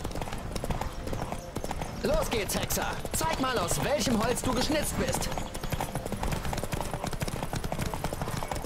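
Roach, Geralt's horse in The Witcher 3, galloping with a steady rapid drumming of hooves throughout, while a voice speaks over the hoofbeats.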